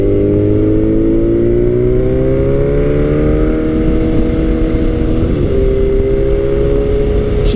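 A Kawasaki Z900 motorcycle being ridden, its engine loud and close, pitch climbing steadily before a quick dip at a smooth gear change, then droning on.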